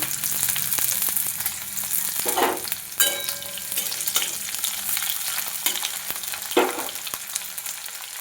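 Cauliflower fries in hot oil with a steady, crackling sizzle, punctuated by a few louder bursts as pieces are stirred. No one speaks.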